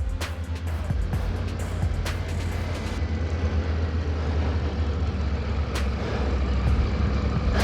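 A Triumph Tiger 900 GT Pro motorcycle being ridden, its engine and wind noise forming a steady, loud low rumble throughout with no talking.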